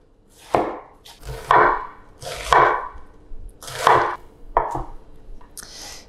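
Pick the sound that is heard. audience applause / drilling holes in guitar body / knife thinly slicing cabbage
knife thinly slicing cabbage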